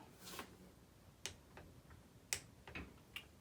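A torque wrench clicking as it tightens the engine cover bolts on a Honda ATC 200X, a few faint, sharp, isolated clicks spaced irregularly in a quiet workshop.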